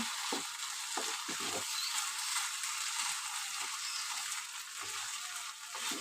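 Prawn and banana flower curry (chingri mochar ghonto) frying in a pan, with a soft, even sizzle and intermittent faint stirring scrapes, fairly quiet and steady with no voices.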